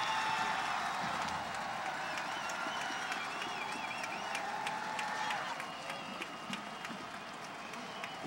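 A college football stadium crowd at a night game keeps up steady applause and cheering, a broad distant wash of clapping with scattered shouts and whistles, fading a little toward the end.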